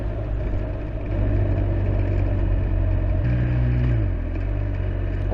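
A motorcycle rides along a road, its engine humming steadily close by with a brief rise and fall in pitch midway, under light wind rush.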